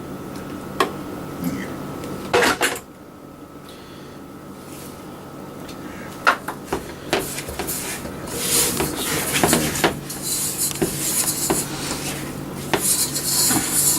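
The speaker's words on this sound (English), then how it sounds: "Just put it in the sink." Dishes and cutlery clatter and scrape in a kitchen sink while baking peanut butter chews, with repeated sharp clinks and rattles, loudest in the later half, and some background kitchen noise.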